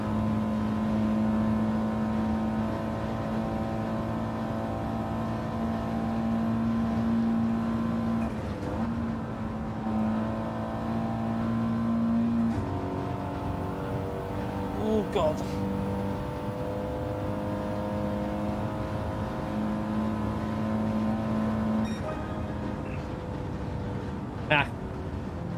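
Race car engine in the Gran Turismo 7 video game, a continuous loud engine tone shifting pitch as the car revs and changes gear, with a voice talking over it.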